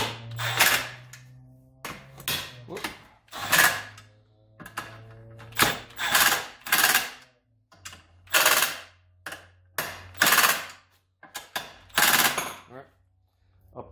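Nuts being torqued down on an Arctic Cat ZR 800 snowmobile during preseason maintenance: repeated rapid bursts of a ratcheting impact tool, about a dozen short loud rattling runs separated by brief pauses, close by.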